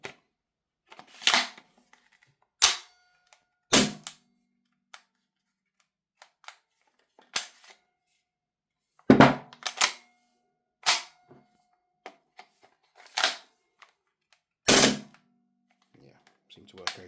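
Airsoft MP9 gas blowback pistol loaded with an MP9 magazine: single sharp cracks with a metallic clack, spaced a second or more apart and fairly close. Faint handling clicks fall between shots, and a person speaks at times.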